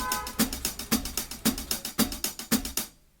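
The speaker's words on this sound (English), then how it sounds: "And layer it with some rides and hi-hats." Programmed pop percussion with ride cymbals and hi-hats layered over it, playing a steady loop of bright metallic ticks and washes. Firmer accented hits land about every half second before the pattern cuts off abruptly near the end.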